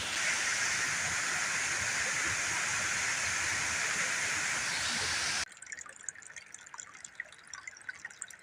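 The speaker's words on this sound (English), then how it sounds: "More waterfalls." Waterfall beside the Appalachian Trail, a steady rushing hiss of falling water that cuts off abruptly partway through, leaving quieter trickles and drips.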